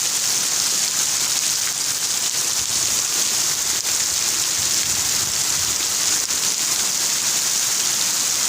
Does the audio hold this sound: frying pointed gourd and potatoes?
no